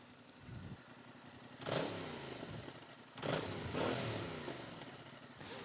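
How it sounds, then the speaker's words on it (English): A motorcycle engine revving through its stock exhaust, close up and alone: a running idle, then two strong throttle blips, each rising and slowly falling back, with a clattery mechanical edge. "let's get some of this this audio from the stock exhaust"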